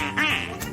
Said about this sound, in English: He'll start quacking and you quack too.